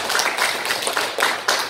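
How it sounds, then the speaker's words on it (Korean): An audience at an arts festival welcoming ceremony clapping, a dense, steady burst of many hands applauding throughout with slight swells in loudness. "큰 박수 부탁드리겠습니다"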